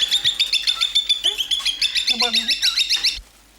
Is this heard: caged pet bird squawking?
yes